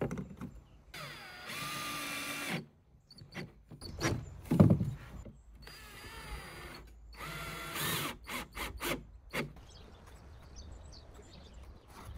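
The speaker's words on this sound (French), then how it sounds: "Et ensuite de venir visser, donc là il y a des petits trous. Donc de venir visser dans ces petits trous." Power drill driving screws through a sliding drawer runner into a piece of furniture built for a van conversion, several short whirring bursts with pauses between them, close and fairly loud, no talk.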